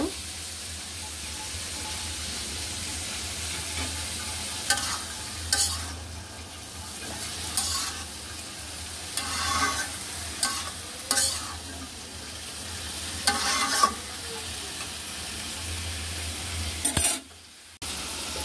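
Cut, boiled vegetables are stirred and fry in a pan for a pabda fish vegetable dish, giving a soft, steady sizzle broken by several sharp scraping strokes of the spatula.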